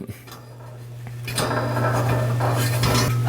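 A metal charcoal grate for a portable grill set into the grill lid, heard as a few clanking, scraping metal knocks close by, over a steady low hum.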